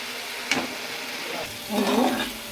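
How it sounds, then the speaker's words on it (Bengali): Turmeric and chilli powder masala sautéing in a pan with a little water, a steady hiss of frying with stirring scrapes, and a brief murmur of voice partway through. "হলুদের গুঁড়ো লঙ্কার গুঁড়ো দিয়ে দেবো, তাকে একটুখানি কষতে দেবো"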